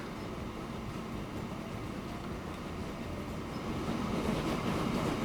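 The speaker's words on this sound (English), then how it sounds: "ride on board as the train heads up through the tunnel" A cargo train in the video game Transport Fever 2 rolls along with a steady, dense rumble and rattle that swells slightly louder toward the end, with no voices.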